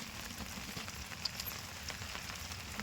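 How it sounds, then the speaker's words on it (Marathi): Steady rain pattering outdoors during monsoon cooking of bitter gourd, a continuous soft hiss with faint drips, no talk. "पाऊस येतोय"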